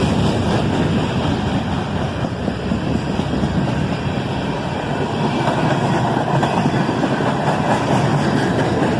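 Freight train Q508, with a long cut of empty steel slab cars heading for Michigan, rolls past close by in a loud, continuous rumble and clatter of wheels on rail.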